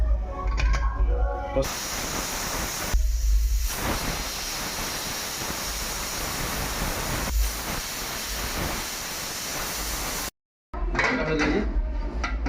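A pressure cooker on mutton curry lets off a long, loud, steady hiss of escaping steam that lasts most of the time before cutting off, with a voice briefly heard before and after.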